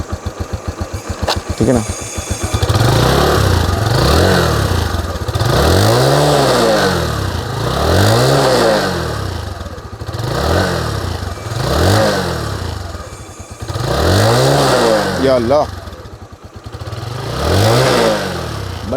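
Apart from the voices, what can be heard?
Suzuki GSX125 motorcycle engine idling and revving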